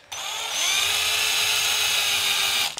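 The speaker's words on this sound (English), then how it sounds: "I'm going to put the drill in reverse" A power drill running in reverse against soft, poor-quality wood while carving a crankbait fishing lure, a close steady high whine that spins up quickly, holds for about two seconds and cuts off.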